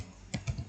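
Quick, light keystrokes on a computer keyboard typing an IP address, a few soft clicks in a brief burst, close and quiet with no talk.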